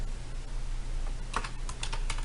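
Quick, light keystrokes tap on a computer keyboard, a short cluster of close, dry clicks in a quiet room with no voice present.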